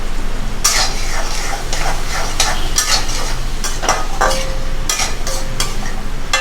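Fried paneer cubes tipped into a hot pan of Manchurian sauce, then stirred: steady sizzling with repeated scraping and clinking strokes of a spoon against metal, close and fairly loud, no talking.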